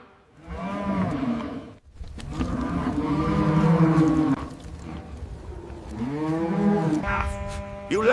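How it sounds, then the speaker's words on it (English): Cattle moo loudly and close by, several long, drawn-out lowing calls one after another with short pauses between them. "who possessed the largest herd of cattle in the world"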